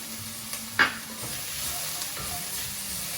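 Four crushed garlic cloves frying in a pan for pasta sauce, a steady close sizzle with a faint scrape of stirring and one brief clack from a utensil.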